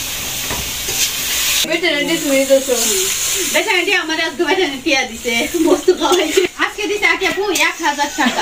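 Fritters (bora) frying in oil, a continuous hiss and crackle that sits alone at first, then continues under a person talking for most of the time.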